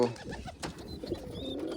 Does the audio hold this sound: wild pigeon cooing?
yes